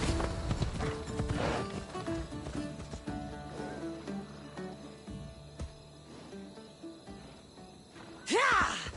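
Horse hooves clip-clop in Assassin's Creed Odyssey on PlayStation, with a rhythmic run of hoofbeats fading over soft ambient game sound and a horse neighing loudly near the end.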